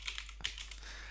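Quiet, rapid keystrokes on a computer keyboard that has no numeric pad, a close run of light clicks with one sharper tap in the middle and no talking.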